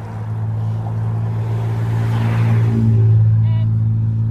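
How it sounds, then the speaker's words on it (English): A car approaches and passes on a road, its engine swelling to a loud peak then easing off, heard from the roadside amid riders' chatter. "Got a car coming."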